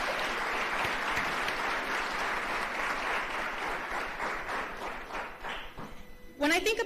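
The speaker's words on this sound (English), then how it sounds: "A round of applause." Audience applause at a school district women-in-leadership event held in a high school venue, a steady dense round of clapping that fades out toward the end before a voice begins speaking.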